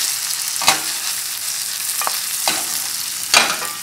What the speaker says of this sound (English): I use my tongs, make it soft and separate all noodles.